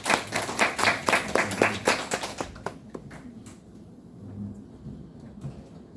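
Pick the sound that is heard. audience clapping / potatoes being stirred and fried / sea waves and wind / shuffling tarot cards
audience clapping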